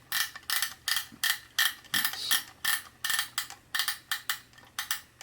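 A Greist rotary buttonholer attachment on a sewing machine is turned by hand, giving close, rhythmic bursts of ratcheting mechanical clicks, about fifteen in five seconds, with no talking.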